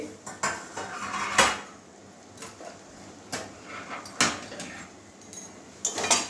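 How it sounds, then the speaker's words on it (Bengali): Metal lid lifted off a cooking pot of egg and cabbage curry, several sharp clinks and clatters of pot and lid spread over a few seconds, close but fairly soft, with no talking. "এবারে ঢাকনাটা খুলছি"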